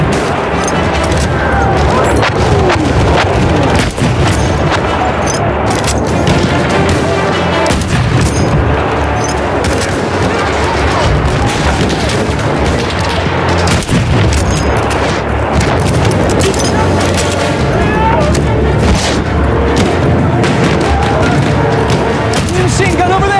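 Dense machine gun bursts and booming artillery fire roll on without pause through a Battlefield battle, loud and close, with overlapping shots and heavy impacts and voices occasionally calling out over the din.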